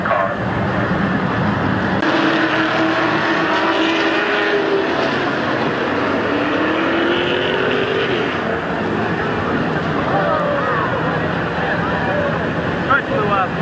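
Race cars circle Midvale Speedway under a yellow flag in 1990, their engines droning and rising and falling in pitch as they pass, under continuous announcer commentary.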